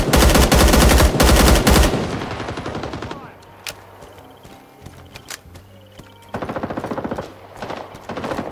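Machine gun fire in the Vietnam-era shooter Rising Storm 2: Vietnam, two loud sustained automatic bursts near the start, scattered distant shots in between, then another heavy burst, with no talk.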